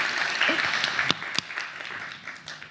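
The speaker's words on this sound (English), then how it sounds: "Do you want to applaud again?" A conference crowd applauds after a talk on Ruby implementations, the clapping thinning out and fading with a few distinct loud claps standing out and faint voices murmuring underneath.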